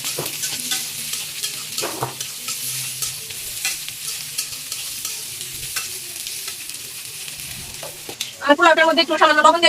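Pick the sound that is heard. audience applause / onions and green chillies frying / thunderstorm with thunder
onions and green chillies frying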